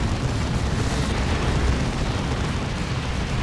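Tank Buster Barrage in Warhammer 40,000: Dawn of War 2 pounding a battlefield, a dense, continuous roar of overlapping explosions and booms, loud and steady throughout.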